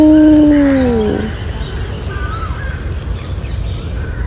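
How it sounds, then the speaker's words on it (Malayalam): A dog lets out a long, loud howl at the start, the pitch sliding downward before it fades, followed by faint bird calls in outdoor background noise. "അയ്യോ വീണ്ടും ഒരു പട്ടി"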